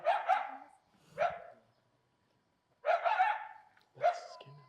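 Coyotes barking and yipping at night in Griffith Park, Los Angeles, in four close, loud bursts separated by short pauses, with a faint voice briefly heard.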